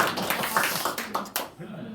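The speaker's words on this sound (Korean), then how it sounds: "박수 한번 쳐주세요." Audience clapping during a Buddhist-themed lecture on Eastern culture, a short burst of applause from a room of listeners with a voice overlapping it.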